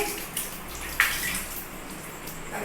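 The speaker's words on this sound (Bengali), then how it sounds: "এবার ভাতটা ধুয়ে নিচ্ছি" Rice being washed in water gives soft sloshing and swirling, with one brief louder splash near the middle, fairly close and continuous.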